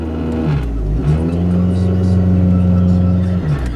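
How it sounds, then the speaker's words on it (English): A 1994 Toyota Corolla 1.6 with an automatic transmission that slips, its engine revving up to a sustained, droning whine that holds steady before dropping back, loud and close. "This transmission's slipping"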